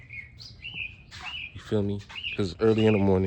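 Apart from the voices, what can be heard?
birds chirping in early morning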